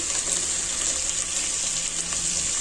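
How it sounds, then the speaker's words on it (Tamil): Tomatoes, mint and coriander sauté in hot oil with a steady, even sizzle and soft stirring noises, heard up close with no talking. "இது எல்லாத்தையுமே சேர்த்து நல்லா வதக்கிக்கலாம்"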